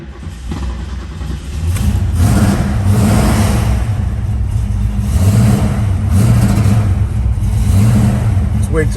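A 1969 Ford Mustang's engine fires up and settles into a loud, rumbling idle with rising revs, heard up close and steady throughout.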